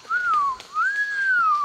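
A person whistles at cuscus in Tangkoko National Park, Indonesia: two long, gliding tones that rise and fall, clear and close over a faint background of forest ambience.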